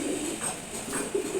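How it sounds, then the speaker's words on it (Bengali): A male Giribaz pigeon held in the hand gives soft, close, low cooing in a couple of brief rolling phrases. "এই যে দেখেন গিরিবাজ কবুতর আমার হাতে চলে আসছে"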